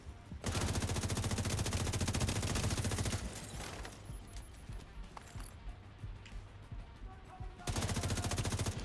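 Sustained automatic gunfire in a video game, a dense rapid stream of shots that breaks off after a few seconds, leaves quieter scattered sounds, then resumes at full loudness near the end.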